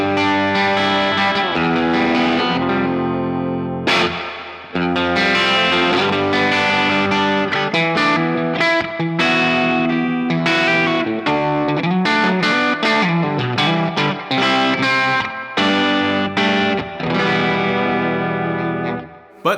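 Guitar played through a Catalinbread Topanga spring reverb pedal with tone and dwell turned down, loud chords and single notes ringing with a soft, natural spring wash.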